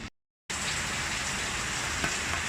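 Heavy rain pours down in a steady, dense hiss that begins abruptly after a moment of silence and holds evenly to the end.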